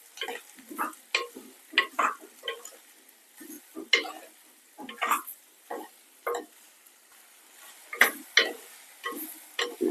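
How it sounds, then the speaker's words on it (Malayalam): Okra being stirred with salt in a pan on the stove, a series of rhythmic scraping and tapping strokes from a spatula against the metal, crisp and close, with a light sizzle between strokes and no talking. "ആവശ്യത്തിന് ഉപ്പൂടെ ചേർത്ത് കൊടുക്കാം ഒന്ന് ഇളക്കി കൊടുക്കാം"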